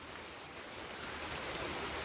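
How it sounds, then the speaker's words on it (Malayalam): Steady rain patters outdoors near a house, a soft continuous hiss of drops at a constant low level with no voices. "മഴ പെയ്യുന്നുണ്ട്."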